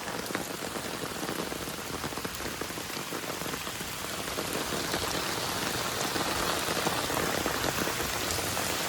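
Heavy storm rain pours down steadily and loudly near at hand, a dense continuous hiss of drops on surfaces amid street flooding, with no voices heard.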